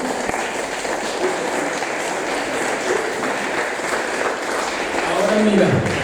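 Church congregation applauding during a sermon, a long, even wash of clapping from a crowd that swells slightly near the end, with voices mixed in beneath it.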